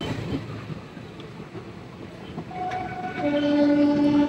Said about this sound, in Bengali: সেই সঙ্গে ছেড়েও দিল ট্রেন